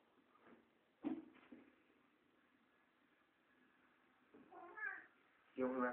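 A pet cat meows several times, close and fairly quiet, with a sharp cry near the start and louder drawn-out meows toward the end, over faint background hiss.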